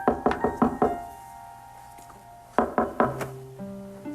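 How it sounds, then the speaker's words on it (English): Knuckles rap on a jail door in a 1990 soap opera: a quick series of four hard knocks, a pause, then three or four more, loud and close over soft music. "Why bother to knock"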